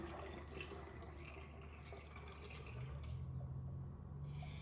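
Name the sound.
water pouring into a quart bottle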